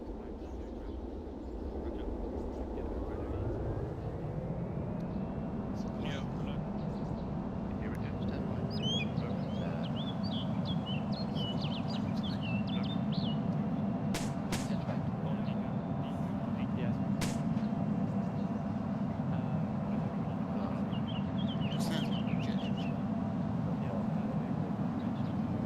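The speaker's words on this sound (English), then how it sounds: "Actually, that does kind of sound like a plane." A heavy aircraft in a military video game passes overhead, a steady low engine roar that rises after a few seconds and holds throughout, with radio chatter and voices talking over it.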